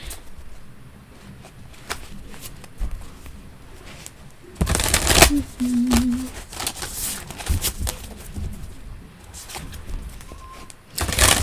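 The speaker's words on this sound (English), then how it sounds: "concentrate on this deck while I shuffle" Tarot card deck shuffled during a live reading, giving a bright burst of riffling card noise midway through, with quieter rustling and faint room sounds around it.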